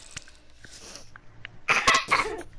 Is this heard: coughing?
yes